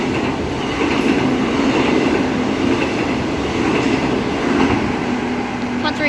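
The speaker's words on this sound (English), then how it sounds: "So now about to pass through platform number 2 at high speed." A non-service EMU electric train passes through a station platform at Currambine at high speed, a loud continuous roar and rumble of wheels and rails that holds steady throughout.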